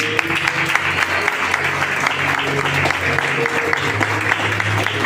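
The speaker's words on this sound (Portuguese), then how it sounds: "Você aplaude a Ele." A church congregation at an evening service applauds in a continuous, full burst of clapping lasting several seconds, with low sustained tones droning beneath.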